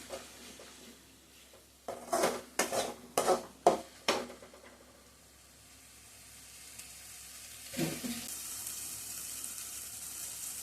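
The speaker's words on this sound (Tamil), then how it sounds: "கொஞ்சம் எண்ணெயில வதங்கணும்." Egg gravy masala fries in oil in a pan, a low sizzle under a quick burst of several close metallic spoon-on-pan clanks, then the frying swells into a brighter, steady hiss toward the end; no voices.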